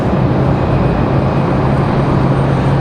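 A Southwest airliner departs from Terminal 1 at Raleigh-Durham International Airport, its steady jet engine roar loud and continuous with a constant low hum throughout.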